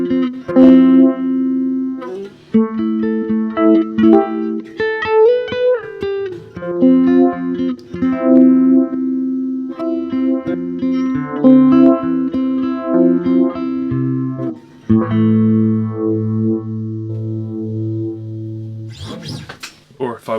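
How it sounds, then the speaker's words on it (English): Electric guitar through a Laney K35 twin reverb amp with an EHX Good Vibes uni-vibe pedal engaged, playing a continuous phrase of chords and single notes with a warbling, throbbing modulation and reverb, steady and loud throughout. "I'm going to kick in the EHX Good Vibes, which is a uni-vibe pedal"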